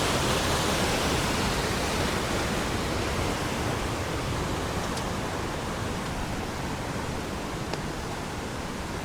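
Steady, loud roar of the Kapas Biru waterfall in Lumajang, Indonesia, a dense broadband rush of falling water that holds constant throughout with no voices.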